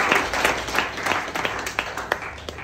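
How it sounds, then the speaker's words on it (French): An audience at a French-language talk gives a brief round of applause, with scattered, uneven claps that thin out over a couple of seconds. "Il faut l'applaudir pour ça."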